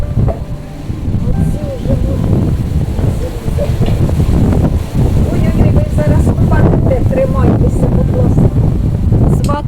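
Strong wind buffets the microphone outdoors in a cucumber garden, a loud, continuous rumbling roar with gusty surges throughout.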